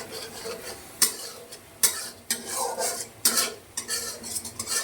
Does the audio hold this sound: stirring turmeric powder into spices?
yes